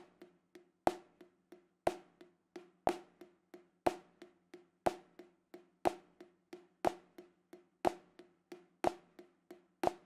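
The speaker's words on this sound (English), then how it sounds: "the whole thing sounds like this on the pad." Drumsticks on a practice pad play a jazz swing sticking with accented right-hand strokes, loud accents about once a second and softer taps between them in a lilting, uneven rhythm, dry and close.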